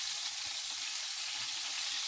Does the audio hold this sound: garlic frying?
yes